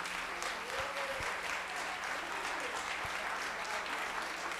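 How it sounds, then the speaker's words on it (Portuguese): Outdoor gathering at a recycling eco-point in honor of the site: a steady wash of applause from a small crowd holds throughout, with a few sharp knocks low beneath it and faint talk mixed in. "Palmas, Gui."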